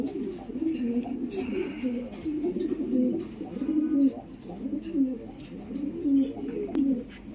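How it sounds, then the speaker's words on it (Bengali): Pakistani Kaldom pigeons, a male and female pair, coo in repeated soft, low throaty phrases at a steady rhythm, close by over a constant background hum. "এটা নর কবুতর আর এটা মাদি কবুতর, অরিজিনাল পাকিস্তানি কালদম কবুতর।"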